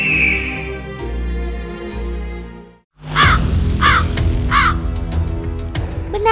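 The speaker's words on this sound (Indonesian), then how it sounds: "Sampai-sampai si gagak juga ikutan tuh cari makan di tempat sampah." Crows scavenging for food at a garbage dump give three or four clear, harsh caws after a low steady drone, close and loud.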